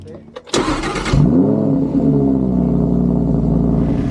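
A Lamborghini engine cranks and fires with a loud burst, then settles into a deep, steady idle rumble close by.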